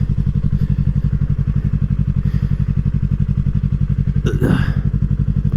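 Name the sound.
2020 Yamaha R3 motorcycle pulling in to park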